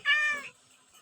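A single short cat meow from the Minecraft video game, clear and close, rising and falling over about half a second, then silence.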